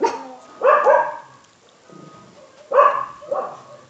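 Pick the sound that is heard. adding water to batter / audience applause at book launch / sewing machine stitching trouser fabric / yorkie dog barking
yorkie dog barking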